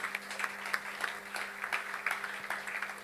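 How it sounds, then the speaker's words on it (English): Applause from an audience at a leadership event for the recipient of a Trailblazer Award, steady clapping at moderate level throughout with a faint hum beneath. "One more time, a round of applause for Dr."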